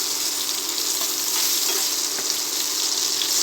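Brinjal frying in a pan for a dry gravy gives a steady, close, bright sizzle that holds evenly throughout with no talking.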